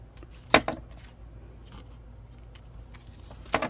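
Scissors snip paper for a collage in two quick, close cuts spaced a few seconds apart, with faint rustling between them in an otherwise quiet room.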